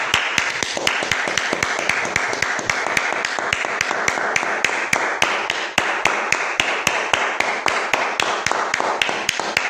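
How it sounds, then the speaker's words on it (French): A church congregation claps in rapid, uneven bursts that sound like dense applause, loud and continuous throughout with no talk. "Applaudissons pour le Seigneur Jésus."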